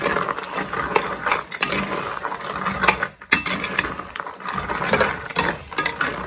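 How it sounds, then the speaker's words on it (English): Raw pecans are stirred in a bourbon spice coating, giving a steady, close rattling and scraping with irregular clicks and knocks throughout and no voices. "I am going to stir them until they are completely"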